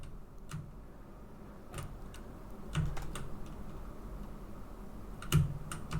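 Close, quiet keyboard typing while coding Pong in Zig with Raylib, scattered irregular key clicks and a few heavier taps over a soft background hiss.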